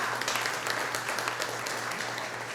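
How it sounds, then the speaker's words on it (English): Guests at a Rotary Club cocktail party applauding for sponsors, a steady, moderately distant patter of many hands over a low room hum, brief and even in level. "You can give them a big round of applause."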